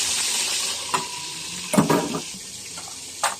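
Pork pieces fry in a pan with a constant sizzle, and a few clinks and stirring scrapes stand out above it. Nobody speaks.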